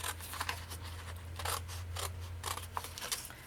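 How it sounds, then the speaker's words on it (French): Scissors snipping through paper along a drawn line, a quiet close-up series of short crisp cuts repeating at a steady pace over a low background hum. "Je coupe sur la ligne ici."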